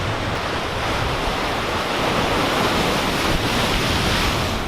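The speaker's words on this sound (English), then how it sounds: "Look at the waves. Like, I have to say, the waves here are so strong." Strong ocean waves crashing at Puerto de la Cruz, Tenerife, a loud, dense, continuous roar of surf with wind, steady throughout and without voices.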